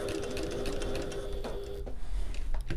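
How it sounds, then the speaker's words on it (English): A sewing machine back stitches a seam on a backpack, a close, continuous whirring run of needle strokes that eases off near the end. "And some back stitching here."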